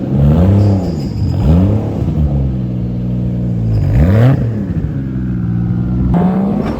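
A modified Nissan S14 with a swapped 2JZ engine revs hard several times, each loud climbing vroom falling back between pulls, heard close and alone.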